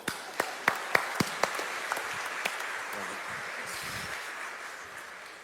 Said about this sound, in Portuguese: Vamos aplaudir, meu irmão?